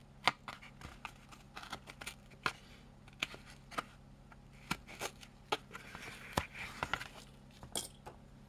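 Scissors cut a piece of material while a vintage Russian SLR camera is converted into a webcam, giving a long run of quiet, close, irregular snips and rustles.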